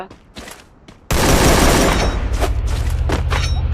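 Gunfire in the Free Fire battle game: a loud, dense burst of shots erupts abruptly after a quieter stretch of sparse clicks, then continues as a sustained, roaring volley with a low rumble underneath.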